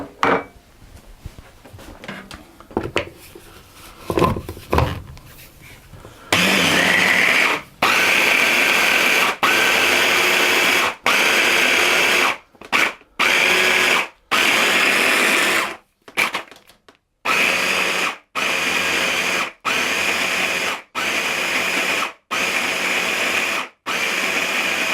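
Food processor pulsing pine nut and sesame seed cookie dough in repeated loud whirring bursts, each several seconds long and separated by short pauses, after quieter handling sounds at the start.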